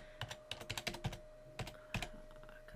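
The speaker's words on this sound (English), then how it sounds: "So we'll type that in, and hopefully I won't make too many typing mistakes." Keys clatter on a computer keyboard as a web address is typed, a quick irregular run of close, crisp clicks with brief pauses, no talking.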